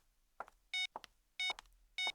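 An unanswered phone call rings as three short, bright electronic tone bursts at an even pace, with soft clicks and thumps between them.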